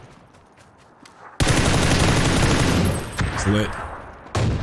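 Rapid burst of automatic gunfire in PUBG on the Taego map, loud and dense for about three seconds, followed by a short later shot, with a player briefly speaking.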